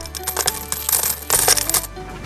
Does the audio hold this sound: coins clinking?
yes